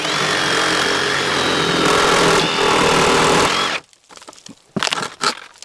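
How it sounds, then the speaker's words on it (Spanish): A reciprocating saw cuts through the joint between two wooden boards and the pocket-hole screws holding them. It buzzes loud and close for several seconds, then stops, leaving a few rough bursts and knocks. "podemos perfectamente usar esta sierra sable, ponerla aquí en la juntura de las dos tablas y atravesar los tornillos"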